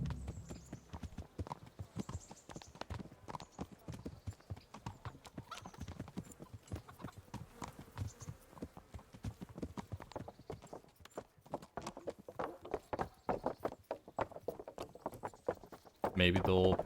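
Hooves of a horse in a video game clip-clopping in a brisk, uneven rhythm of sharp knocks, moderately close, with a brief neigh-like burst near the end and a player voice talking intermittently.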